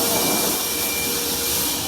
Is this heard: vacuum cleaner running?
yes